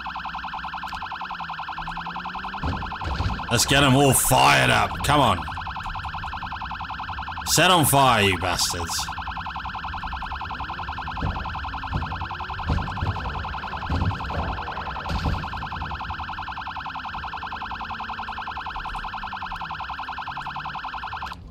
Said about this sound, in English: Let's turn the siren on.